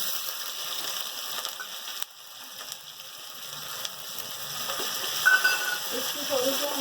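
Ginger garlic paste frying in hot oil in a pan for a potato and egg dish, a steady soft sizzle that builds slightly louder toward the end, with no talking.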